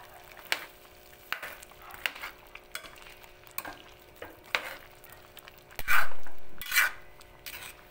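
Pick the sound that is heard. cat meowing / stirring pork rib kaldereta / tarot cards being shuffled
stirring pork rib kaldereta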